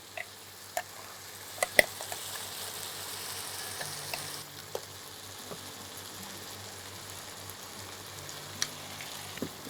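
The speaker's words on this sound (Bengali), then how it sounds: "চিকেনটা একটু ভাজা ভাজা হবে, এটা হতে থাকুক।" Chicken fries in a pan for a traditional Bengali smoked mango chicken, giving a soft, steady sizzle with scattered sharp pops and crackles and no talking.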